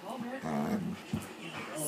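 A pet dog whimpers and makes soft growling whines, faint and close, mixed with high-pitched vocal sounds throughout the short stretch.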